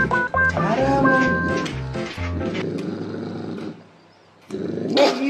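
A hunting dog, not a beagle, growls while clamping onto a large bone, a close, rumbling snarl with harmonic whines that fades briefly near the end and then returns.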